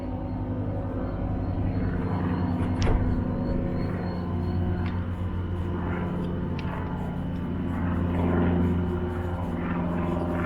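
A steady low aircraft drone rumbles throughout, holding near-constant loudness with a slight swell toward the end, with faint mechanical ticks over it.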